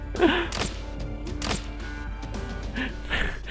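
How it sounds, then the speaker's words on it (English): Quick swishing knife slashes and dull thuds from Arknights pile up in rapid succession, several hits overlapping at close range. "I know that's the sound of like knife slash"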